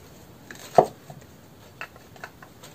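Cutting into a salvaged radio microphone being stripped for a tail light: one sharp snip near the start, then a few lighter clicks and taps, close and alone in a quiet room.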